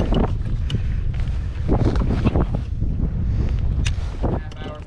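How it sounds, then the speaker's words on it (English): A gust of wind sweeps across Lake Guntersville during a kayak bass tournament, roaring and buffeting the microphone in uneven surges, with a voice faintly mixed in. "There's that gust they were talking about."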